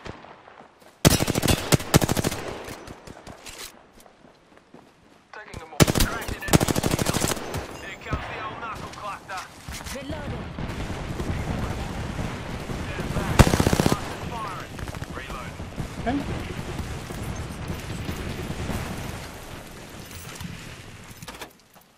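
Gunfire from the battle royale game Apex Legends: loud bursts of automatic fire near the start, then a long stretch of dense, busy in-game action with scattered shots and effects.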